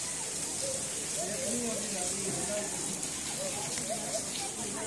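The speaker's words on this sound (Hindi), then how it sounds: "बारिश पै रही बहुत तेज" Heavy rain pours at night at Faisal Mosque in Islamabad, a loud, steady, dense hiss that never lets up, with faint voices murmuring underneath.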